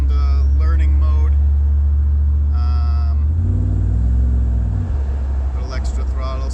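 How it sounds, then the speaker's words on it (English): A 1987 Camaro IROC-Z with a 350 V8 and EZ-EFI fuel injection on a test drive: a loud, steady engine drone heard from inside the car, with a brief rise in pitch when the throttle opens, while someone talks over it. "Little extra throttle, so I don't think it's completely done learning, but it runs just fine."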